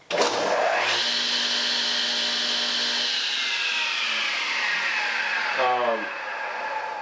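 A Delta 36-725T2 table saw motor spins up from a slow start, its whine rising steadily over several seconds before settling, then winding down near the end; loud and close, with no talking.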